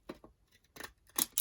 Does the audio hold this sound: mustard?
no